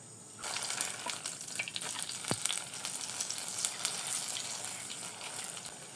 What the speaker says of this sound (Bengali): এভাবে আমি বাকি সবগুলো নাস্তা ভেজে নিব।